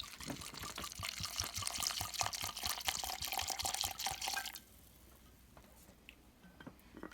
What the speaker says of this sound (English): Now I'm gonna start by pouring a quarter of this nice French vodka into the pineapple.